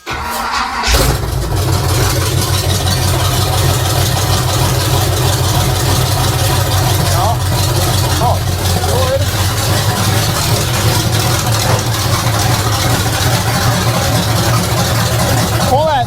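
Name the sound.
1979 Chevrolet K20 square body truck engine idling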